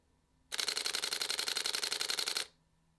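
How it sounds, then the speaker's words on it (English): A Canon R5 mechanical shutter fires at 12 frames per second, a close, rapid rattling burst of crisp clicks lasting about two seconds, framed by near silence. "We're going to show the 12 frame per second mechanical shutter."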